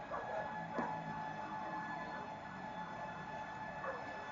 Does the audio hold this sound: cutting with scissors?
no